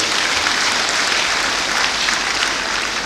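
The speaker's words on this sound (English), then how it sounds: "Can we give him another round of applause, please?" A workshop audience gives a steady round of applause, a dense, even wash of many hands clapping for the whole stretch.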